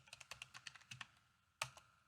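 A computer keyboard is typed on in a quick burst of close, crisp key taps, with a brief pause and then a single sharper keystroke near the end.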